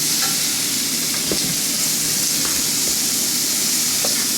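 Chicken wings fry on an oiled griddle, giving a continuous close sizzle with scattered pops and light scraping sounds throughout.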